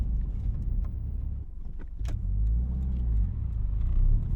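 Steady engine drone from a 2005 Subaru WRX STi with the EJ207 engine, driving and accelerating, heard from inside the cabin with a low rumble that swells and rises in pitch partway through, no voices.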